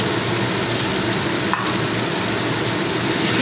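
Ground spices sizzle and fry in hot oil in a pan for mattar paneer, a steady dense hiss throughout with a brief stir or clink near the middle; no talking.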